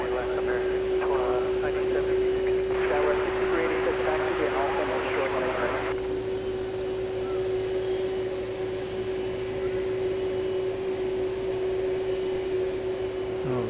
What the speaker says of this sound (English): UPS Flight 773 to Louisville, 767-300 ER